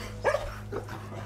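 A single dog gives a short, faint bark, then a softer second yelp, at a home housing many rescued abandoned dogs, with quiet room noise around it.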